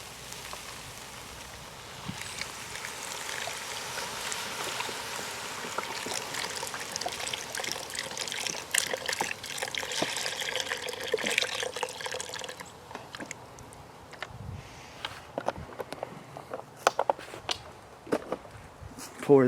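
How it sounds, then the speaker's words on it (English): Beef broth pours from a carton into a cast iron Dutch oven of browned ground venison, a steady liquid gush and trickle lasting several seconds before stirring clinks, with a person talking over it. "first thing we pour in is a beef broth"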